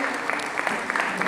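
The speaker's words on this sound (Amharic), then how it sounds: "ባካችሁ ሞቅ ባለ ጭብጨባ።" An audience gives warm applause to an honoree at a gratitude evening gala, dense continuous clapping from a crowd throughout.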